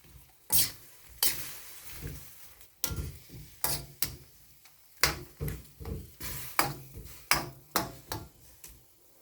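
A spoon knocks and scrapes through cut duck pieces in a pot of Thai curry with a faint simmer underneath, the strokes coming close and sharp at an uneven, unhurried rhythm.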